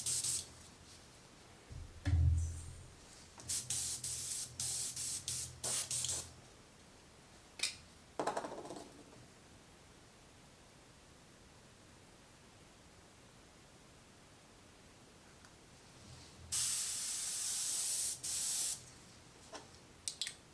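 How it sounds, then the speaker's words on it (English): An airbrush sprays in several bursts while repainting a Halloween prop of the possessed girl from The Exorcist, each a loud, close hiss of a second or more separated by quiet gaps, with a long final burst near the end. "this is my airbrush. Plug this in. This is probably where it's going to get loud,"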